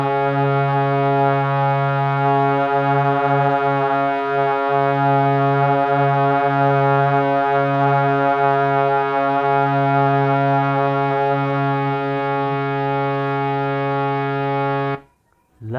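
A harmonium sustains the single note Sa as one steady, loud, reedy drone with rich overtones, held unbroken for about fifteen seconds before cutting off abruptly.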